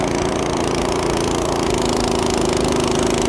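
A Craftsman snowblower runs steadily through wet, heavy, slushy snow, its engine droning loud and close with a constant churning roar that holds without pause from start to finish.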